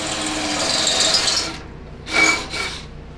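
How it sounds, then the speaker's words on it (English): A power drill bores into a go-kart part in a workshop, running steadily for about a second and a half, then giving two shorter bursts after a pause, with no talking. "And I got one more spot to drill"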